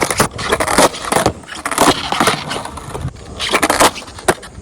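Skateboard rolling and clacking during a moving shove-it trick attempt, with repeated board scrapes, slaps and wheel rumble in several bursts, close and fairly loud.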